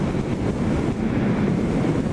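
Steady, broad wind rush buffeting the microphone, a constant low roar with no voices.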